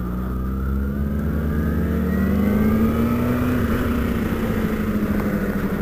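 A Kawasaki ZX14 motorcycle on a group ride, its engine note rising steadily as it accelerates, heard close with road rumble underneath.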